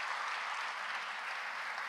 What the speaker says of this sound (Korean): 잠깐 일어나시면 박수로 환영하겠습니다